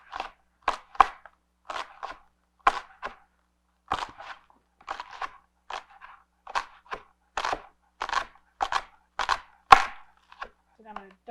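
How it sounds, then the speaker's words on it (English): A knife chops green onions finely on a cutting board, making sharp, fairly even taps in quick bursts with short pauses between them, close and clear with no talk. "Next, I'm going to chop the green onions."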